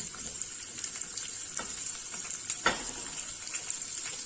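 Chopped onion frying with roasted peanuts in a pan for masale bhat, a steady close sizzle with a few scrapes of a spoon stirring through.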